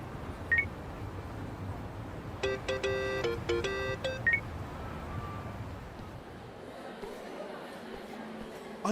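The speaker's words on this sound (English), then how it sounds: "Kasuga, call me on your phone." A mobile phone dials in Yakuza: Like a Dragon, a quick run of bright keypad tones and beeps set against busy street chatter and traffic, with a couple of isolated beeps before and after.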